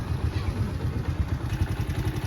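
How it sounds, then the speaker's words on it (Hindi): A motorcycle engine runs steadily just after starting, a close low rumble with a fast, even pulsing throb and some light mechanical clatter, with no speech over it. "बाइक हमारा स्टार्ट हो चुका है"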